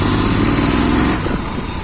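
A Royal Enfield GT 650 motorcycle engine pulls hard under acceleration, a loud, steady droning roar close by that eases off slightly partway through, with no voices.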